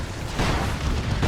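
A Barbed Strangler weapon blasting in a Dawn of War 2 3v3 battle, a dense, rumbling wash of booming explosions and battle noise that swells slightly and stays loud throughout.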